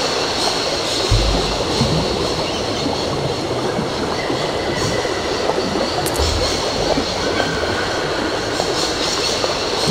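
A train rolls along in the video game Syberia, a loud, steady rumble of wheels and carriages with occasional clicks and squeals, nearby and without talking.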